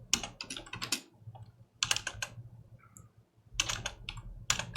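Bursts of rapid, close clicking on a computer keyboard while Python code is typed, broken by short pauses between runs of keystrokes.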